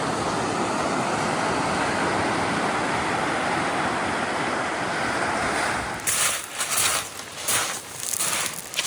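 Surf rolls onto a rugged beach on Nootka Island as a loud, steady wash with wind noise, then gives way to quieter gusty buffeting near the end, with no voices.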